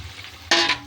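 Tomatoes and chilli powder hitting fried spice paste in a pan, a faint background sizzle that bursts into a sudden loud hiss midway through the brief moment.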